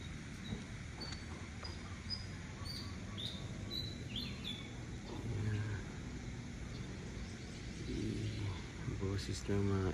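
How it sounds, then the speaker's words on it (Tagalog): Birds chirp and tweet faintly at a distance in a mountain setting at Barili, scattered short calls over steady outdoor ambience with occasional low rumble of a passing vehicle and voices talking. "Boses ng mga ibon."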